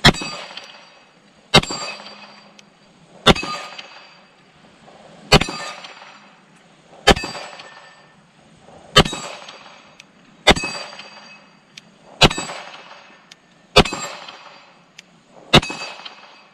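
Nine sharp metallic clangs from 9mm Beretta 92FS pistol shots ringing off a steel plate rack, evenly spaced about every second and a half, each loud impact followed by a short decaying ring.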